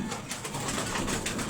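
Pigeons cooing in a loft, soft repeated throaty coos close by over a dense background of other birds.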